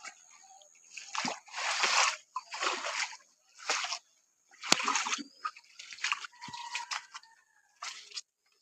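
Water splashes and sloshes in repeated bursts around a flooded goat shed during heavy rain, the splashes close and uneven with short quiet gaps between them.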